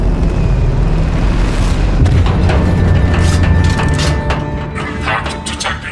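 An explosion on a rocket booster in the Tales From The Borderlands game: a loud, sustained booming rumble with crackling debris and metallic creaks, fading slightly toward the end.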